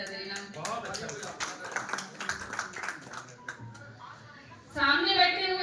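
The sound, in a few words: audience applause at a poetry recital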